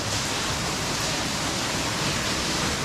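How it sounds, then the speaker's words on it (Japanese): A large waterfall plunges deep inside a limestone cave in Japan's Tokai region, producing a loud, dense, unbroken roar that fills the space and echoes close at hand. "滝だ滝だ、"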